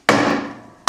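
A hammer knocks a wooden transom into place on a Carlson CVX-18 boat: two loud, close blows about a second apart, the first ringing out and fading before the second lands.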